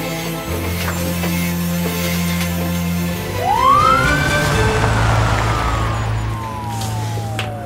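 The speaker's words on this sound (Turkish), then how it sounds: "Ambulanslar da geliyor, merak etme." An approaching ambulance siren rises into a clear sweeping wail over steady low traffic rumble, growing louder near the middle before sliding down in pitch as it passes, with no voices.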